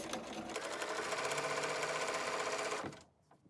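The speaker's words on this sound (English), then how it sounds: "I'm gonna keep sewing all the way to that point" A sewing machine stitches binding onto a quilt with a scalloped edge, running in one steady, close, loud whir for about three seconds before stopping abruptly.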